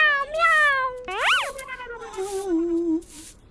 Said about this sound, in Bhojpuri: ये बिलाई कहाँ बोलत यार?